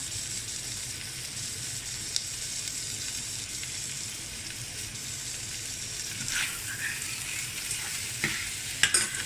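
Catfish larb with toasted rice is stir-fried in a pan, a low steady sizzle with intermittent scraping and clinks of the spatula growing busier toward the end.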